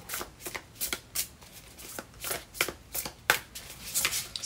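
Tarot cards shuffled by hand, a close, quiet run of rapid riffling bursts repeating in quick rhythm, with no talking.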